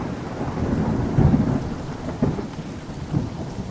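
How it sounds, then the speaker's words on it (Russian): Rain falls steadily with low thunder rumbling through it, swelling in a few heavier rolls. "Это как дождь."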